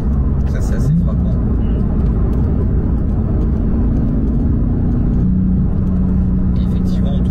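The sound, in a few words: Porsche 992 GT3 driving on track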